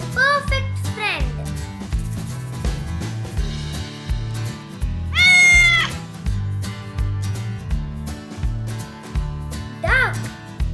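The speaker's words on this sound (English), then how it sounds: "Cat is a perfect friend." A cat meows several times, drawn-out rising and falling calls spaced across the stretch, over a bouncy children's music backing with a child-like voice speaking.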